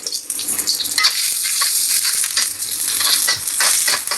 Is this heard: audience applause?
no